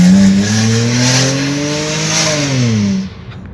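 Hyundai Azera 2008 fitted with an aftermarket acceleration module, accelerating hard with a rising engine note that climbs steadily through the gears, loud and close, with no talk over it.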